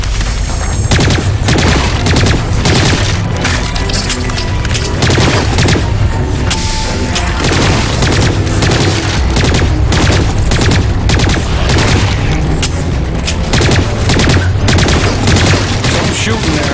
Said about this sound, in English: Some shooting there.